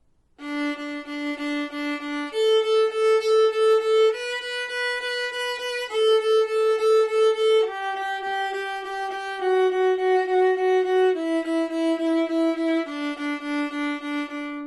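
A bowed viola plays steady groups of three quick eighth-note triplets on D, repeating on one pitch and then moving between a few others, from Twinkle, Twinkle Little Star. The tone is clear and close, with no talking.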